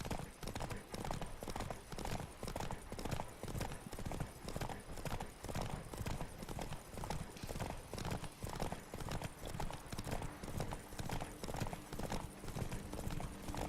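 Horse hooves clip-clop in a steady, even trotting rhythm throughout in the video game The Witcher 3: Wild Hunt, close and continuous, with a faint low background hum beneath.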